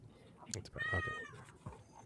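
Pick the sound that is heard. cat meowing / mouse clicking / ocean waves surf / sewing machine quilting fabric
cat meowing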